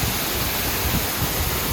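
A waterfall at Epcot pours in a steady, dense, loud rush of falling water that fills the whole moment without a break.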